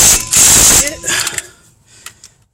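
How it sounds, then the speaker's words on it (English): A ratchet clicks rapidly and loudly up close for about a second, tightening the brake caliper bolts on a 2011 Chevy Impala, then trails off into a few faint clicks and quiet shop noise. "bolt down the caliper bolts"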